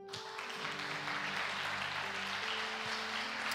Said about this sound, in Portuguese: Fique em pé e vamos aplaudir o Senhor.